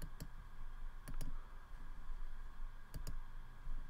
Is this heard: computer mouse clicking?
yes